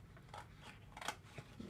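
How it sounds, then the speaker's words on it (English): Scissors snip through card stock for a handmade stand-up shadow box card, a few quiet crunchy cuts close by over faint room noise, no talking. "Just do that over here with my scissors."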